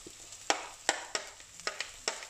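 Banana blossom curry ingredients being stirred and fried in a Sri Lankan kitchen, a steady sizzle broken by several sharp scraping stirs of the spoon against the pan, close and moderately loud, with no talking.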